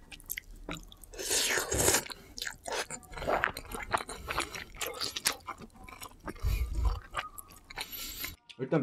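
Microwaved peanut-butter jjajang-style noodles are chewed close to the mic, with irregular wet squishes, bites and soft crunches in quick bursts, and no talk over them.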